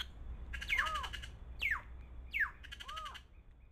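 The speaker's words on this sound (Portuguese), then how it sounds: "Ali uma gralha picaça." A plush-crested jay gives four loud, descending squawking calls in open country, spaced about a second apart over a low steady wind rumble.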